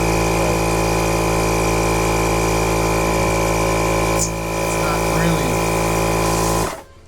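A Milwaukee 2475-20 compact cordless inflator pumps up a soccer ball, its motor droning loudly and steadily with a constant vibrating hum before cutting off at the end.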